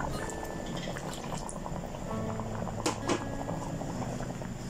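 Kerala sambar bubbles in a pot with a steady soft boiling simmer and occasional small pops and splashes, close and without talk.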